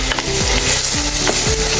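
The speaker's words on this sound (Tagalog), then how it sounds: "Haluin ulit natin." Garlic sizzles in a hot pan for a Filipino bopis recipe while a utensil stirs and scrapes through it in a few quick passes, close and loud.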